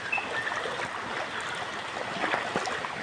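Water flowing into a stream channel during rain, a steady soft rushing and trickling flow with faint splashes, heard close up and alone without voices.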